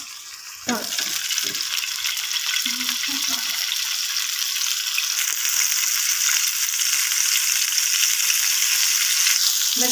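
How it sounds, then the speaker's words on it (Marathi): An egg drops into hot oil with chili powder and bursts into a loud, continuous sizzle that holds steady and close, following a few brief faint clinks. "तेल टाकून घेतलं आपण आता अंडा फ्राय करायचा"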